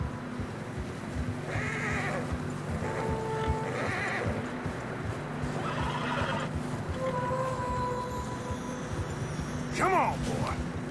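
Horses whinny and plod through fresh snow in Red Dead Redemption 2, with several neighs standing out over steady hoof and ambient noise, and game characters talking during it.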